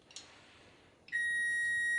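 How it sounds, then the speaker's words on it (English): An oven kitchen timer for a baking cake sounds a single sharp, steady electronic beep that starts abruptly and holds, after a quiet stretch with a faint clink. "That is the timer for the cake"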